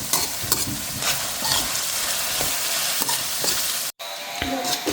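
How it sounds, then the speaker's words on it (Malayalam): Oil sizzles steadily and loudly in a pan of frying carrots, with scattered clinks and scrapes of stirring and a brief break near the end. "നമ്മൾ വറുത്തുകൊണ്ടിരിക്കുകയാണ്"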